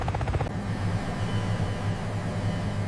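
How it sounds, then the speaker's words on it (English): An MH-60 Seahawk helicopter lifts off vertically from a ship's flight deck, its engines and rotors making a loud, steady roar with a low, pulsing rhythm throughout. "The MH-60 Seahawk takes off vertically from the ship's flight deck."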